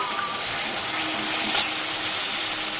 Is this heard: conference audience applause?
no